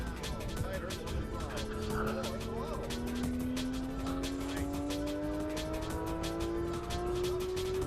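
A Porsche 991 GT3 RS engine winds up steadily on a race track, a rising rasp heard from inside the car with a faint tire squeal, moderately loud and continuous, while someone talks over it.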